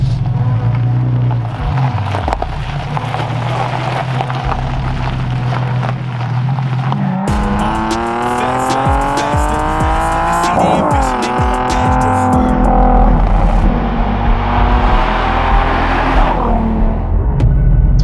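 A Nissan 370Z Nismo sports car engine revs and accelerates loudly from inside, rising and falling through gear changes with strong low rumble, no speech.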